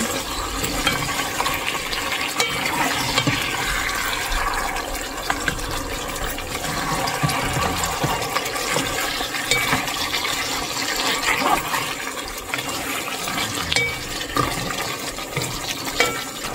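Water goes into a pot of Korean LA galbi beef simmering for boiling: a steady, loud wash of pouring and sloshing liquid that runs the full length, with no talking.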